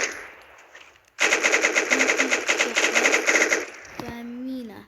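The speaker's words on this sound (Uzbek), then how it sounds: "Bu to'pponcha." Rapid automatic gunfire from a pistol in a Minecraft Bedrock mod rattles out in one loud sustained burst of about two and a half seconds, followed by a short clack and a rising electronic tone.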